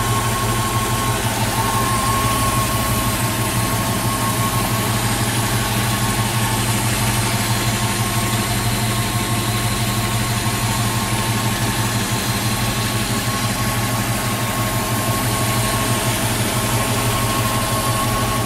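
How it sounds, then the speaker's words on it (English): A 1967 Ford Mustang's 289 V8 with recent tune-up and carburetor kit idles steadily nearby, a continuous low even rumble with faint mechanical hum and no voices. "the engine, the 289 engine, seems to run great."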